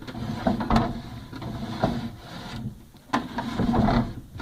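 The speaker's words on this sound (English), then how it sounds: "this dresser drawer slides in and out" Wooden dresser drawer with a slight shimmy pushed in and pulled out several times, a close rough rubbing scrape with repeated thuds as it stops at each end.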